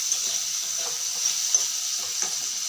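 Something fries in a pan with a little turmeric and salt, a steady close sizzle with soft stirring scrapes and a constant high whine in the background.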